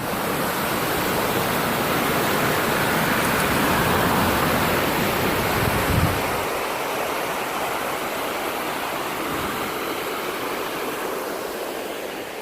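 Steady, loud rush of the White Salmon River flowing close by beneath a small bridge, a continuous broadband roar with no voices.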